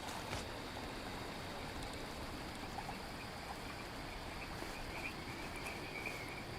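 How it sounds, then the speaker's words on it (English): Frogs croak in a nighttime video game scene near wet rocks, a dense, steady chorus blended with insect chirping and running water, with no one talking. "Oh, there's some frogs there."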